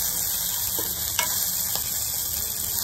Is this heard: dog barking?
no